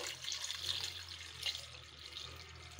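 Water pours softly into a pressure cooker, a faint steady trickle and splash with a low background hum.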